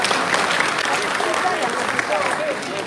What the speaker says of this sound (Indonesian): tepuk tangan untuk Pak Anies Baswedan